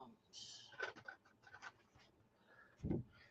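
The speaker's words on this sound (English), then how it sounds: "I'm just going to draw around that there so that I now get my space to cut around" A biro pen draws around a template on a crafting surface, giving faint, quiet scratchy strokes in short bursts with gaps between them. A person talks softly alongside.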